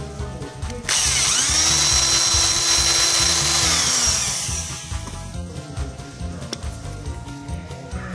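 Small power drill widening a hole in a plastic Plarail toy motor part, a sharp high-pitched whirring burst of a few seconds up close, then fading into clicks and handling noises.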